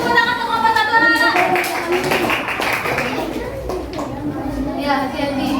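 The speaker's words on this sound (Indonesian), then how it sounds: "Ayo tepuk tangan untuk kelompok 1 anak-anak." Schoolchildren clapping together in a classroom for the first group about to present their diorama, a brisk patter of small hands under a teacher's voice and children's chatter.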